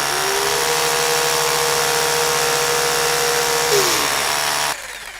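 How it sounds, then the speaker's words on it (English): Power drill whine from the Low-Budget Repairs video game, a loud steady motor drone holding nearly five seconds, with a brief pitch drop near the end before it cuts off abruptly. "Now the drill's going to be super loud"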